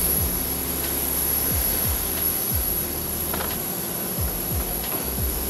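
An AgustaWestland AW139 twin-engine helicopter whines with a high steady turbine tone and low repeating sweeps, heard up close and continuously with no talking.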